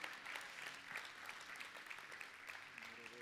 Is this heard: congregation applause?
yes